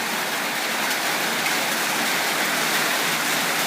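Heavy early-season rain falls in Udon Thani, a dense, loud, even hiss of downpour with no pauses and no voices.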